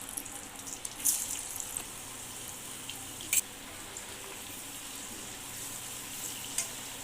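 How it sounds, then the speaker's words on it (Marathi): Boiled eggs with turmeric and red chili powder shallow frying in hot oil in a kadai, a faint steady sizzle with a few sharp spatters and clinks, no voices. "कढईमध्ये तेल गरम करून घेतलेलं आहे त्यामध्ये आपण हळद लाल तिखट हे दोन्ही जिन्नस कापून अंडी व्यवस्थित शॅलो फ्राय करूया"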